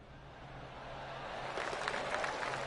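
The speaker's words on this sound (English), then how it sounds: "I can hear the golf claps around the course." Scattered golf claps from a gallery around the course in PGA Tour 2K25, rising after a second or so into a light, patchy ripple of applause over a low steady hum.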